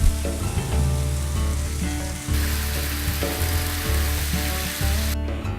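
Strawberry chicken quesadilla filling fries loudly in a pan, a dense close sizzle with soft stirring scrapes and a low steady hum beneath, no talk.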